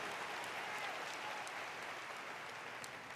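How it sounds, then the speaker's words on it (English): Sustained audience applause for a first-time trainer at a business meeting, a dense steady clatter of many hands clapping that holds at an even level throughout. "Give him a round of applause."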